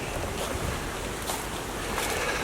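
Wind blowing hard against the microphone while walking up into the woods outside Landsberg am Lech, Bavaria: a loud, steady roar with gusty swells and no talk.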